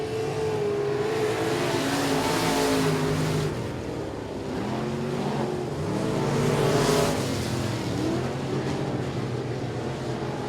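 Race cars at Sabine Speedway roaring down the back straightaway in a regular race program, a loud, continuous engine drone with rising and falling pitch as several cars pass close by.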